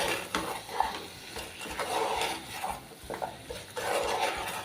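Papaya and potato are stirred together in a pot for a prawn and papaya curry, producing soft repeated scraping and rubbing strokes in bursts, with a faint sizzle underneath and no speech.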